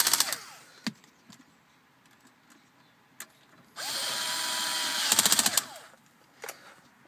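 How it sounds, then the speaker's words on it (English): A power drill whirs in a few bursts while driving screws into a BMW E60 during an aux install, one sustained run of about two seconds ending in rapid clicking pulses, with short quiet gaps and taps between. "I'm going to drill them back in."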